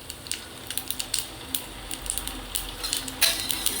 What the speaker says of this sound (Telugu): నీళ్లు పోసుకున్నాను.